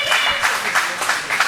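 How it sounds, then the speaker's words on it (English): A crowd at a pro wrestling show applauds in short, uneven bursts of clapping, fairly close and loud, with a voice speaking over it. "Deserve an applause"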